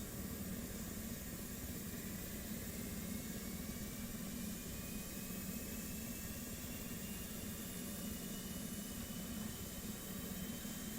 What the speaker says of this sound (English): start cranking our engines here